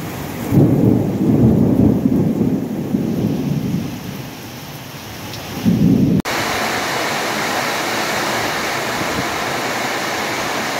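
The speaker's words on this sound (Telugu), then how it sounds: "ఉరుములు మెరుపులతో వాన వస్తుందండి" A thunderstorm with rain in rural Andhra farmland: heavy thunder rumbles roll loudly for several seconds, then steady downpour hiss continues alone.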